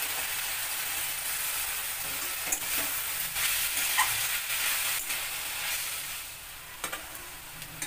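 Washed gima greens drop into a pan of softened potatoes and eggplant, bringing a steady sizzle and hiss with scattered stirring clatters and clicks throughout.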